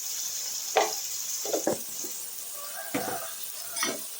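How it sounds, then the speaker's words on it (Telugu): Sliced onions with salt and turmeric fry in a pan for a small-brinjal curry, a constant soft sizzle broken by several scraping stirs of a spatula, close and alone without speech. "ఇలా కలుపుకున్నామండి ఈ ఉల్లిపాయలు బాగా గోల్డ్ కలర్లో వచ్చే వరకు వేగనిద్దాము"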